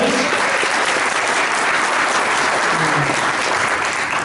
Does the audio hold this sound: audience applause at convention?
yes